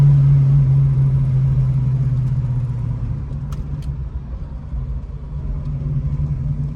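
A 1979 AMC Spirit AMX with a four-speed manual drives along, its engine a steady, loud low rumble with road noise and a brief drone easing off early on.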